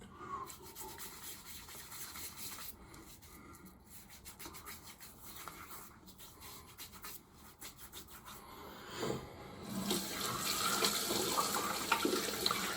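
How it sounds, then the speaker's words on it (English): Hands are washed under running tap water at a sink, with soft rubbing and splashing. The flow grows fuller and louder toward the end. The sound is close and unaccompanied by speech. "wash my hands"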